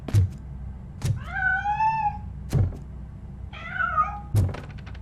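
A cat meows twice in Robocop: Rogue City, each rising, wavering cry lasting about a second, separated by sharp heavy thunks like knocks or footsteps, close and clear with no talking.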